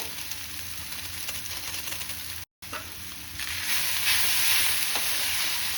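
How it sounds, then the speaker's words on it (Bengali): Boiled Maggi noodles being stirred with biryani masala in a hot pan, a steady loud sizzle with scraping stirs that grows brighter and fuller partway through, with no voices. "মশলাটা দিয়ে আমি এবার ভালো করে মিক্স করে নেব।"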